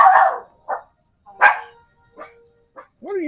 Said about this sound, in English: He wants to bark.